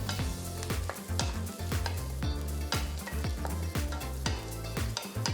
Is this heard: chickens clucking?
no